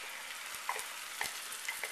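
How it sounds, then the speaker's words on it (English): Chili hits a hot pan and sizzles in a steady, close hiss, broken by a few sharp spits and crackles. "Throwing in the chili."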